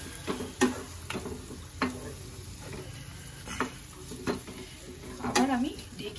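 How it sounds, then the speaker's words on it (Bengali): Ginger, garlic and green chilli paste fries with chicken in a pan, a soft sizzle broken by repeated sharp scrapes and clinks of a stirring spoon at an uneven pace. "এবার আমি আদা রসুন কাঁচা লঙ্কা পেস্টটা এর মধ্যে দিয়ে দেবো, দিয়ে ভালো করে কষিয়ে নিতে হবে"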